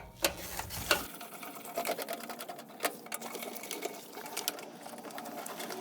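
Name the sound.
1/4-inch drive ratchet removing burner assembly screws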